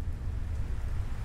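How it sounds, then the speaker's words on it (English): Steady rainfall in the video game Final Fantasy XVI, a dense low rumbling wash of drops that stays even and continuous throughout with no voices. "Oh, it's raining."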